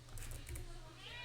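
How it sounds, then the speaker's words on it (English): A cat meows right outside a closed door, a short plaintive call heard fairly faint and muffled over a steady low hum, with no talking during it. "I don't know if you can hear Marshmallow meowing directly outside my door, but he is very much interested in being let in"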